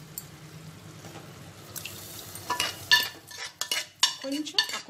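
Fenugreek leaves go into a pot of cooked dal in a pressure cooker, with a spoon scraping and clinking against the metal and soft wet stirring sounds, close and intermittent, with no talking.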